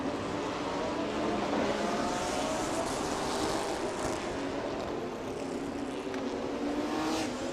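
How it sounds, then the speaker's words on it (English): GT race cars at a Thailand Super Series circuit warming their tires before the formation lap, a dense continuous engine roar with several cars blending together at a distance, no talk. "as they warm up their tires to get into a formation lap"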